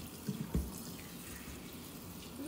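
Water runs steadily while a hair mask is rinsed out during a wash, a soft, close, continuous splashing flow with a few brief sloshes and thuds near the start.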